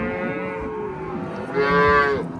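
Cows on an Estonian dairy farm moo loudly and close by, one long low call followed by a second, stronger moo overlapping it, with no talking.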